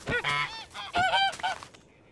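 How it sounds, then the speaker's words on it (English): A goose in the Minecraft video game honks several times in quick succession, loud and close, with short harsh calls and no talking over them. "Hello, you dumb goose."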